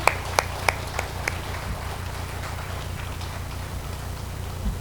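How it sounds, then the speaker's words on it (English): Applause at a stock exchange listing ceremony, starting with a few sharp, distinct claps near the front and thinning into a soft, scattered patter from a small audience over a low hum. "Can we welcome them with a big round of applause, ladies and gentlemen?"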